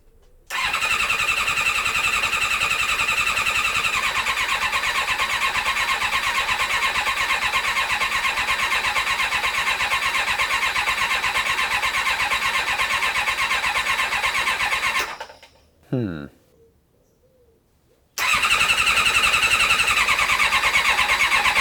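Kawasaki ZX7R motorcycle engine starting on a jump pack after a rebuild: it cranks briefly, catches and runs at a loud steady idle for about fifteen seconds, sputters and stops, then fires up again.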